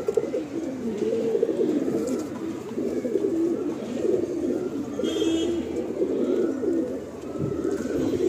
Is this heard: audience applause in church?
no